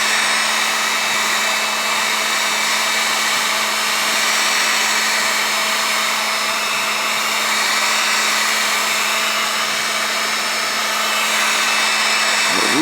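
A heat gun or hair dryer warms window tint film on an Audi, giving a loud, continuous blowing whine with a steady hum that runs unbroken from start to finish, with no talk.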